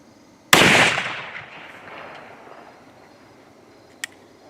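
A single loud, close shot from a .45-70 rifle converted to a muzzleloader with a breech plug, a sharp crack with a long decaying rumble, then a brief faint distant knock a few seconds later.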